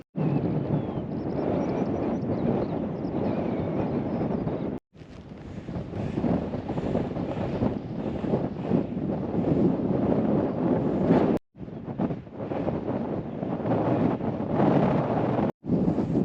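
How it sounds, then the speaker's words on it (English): Strong wind gusting across a hilltop in Snowdonia, buffeting the microphone with a loud continuous roar broken by a few brief lulls, no voices. "Super windy up here."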